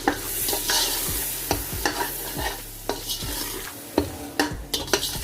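A spoon scrapes and stirs turmeric powder through a frying pulao base, with repeated sharp knocks and scrapes against the pot over a steady sizzle. No voices are heard.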